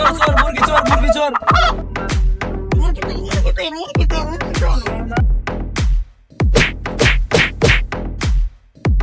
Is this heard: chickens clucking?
yes